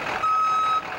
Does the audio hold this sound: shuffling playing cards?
no